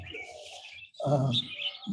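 Morning birds chirping and chattering noisily outdoors, with overlapping tweets and calls in uneven bursts, a brief pause midway before the busy chorus resumes close by.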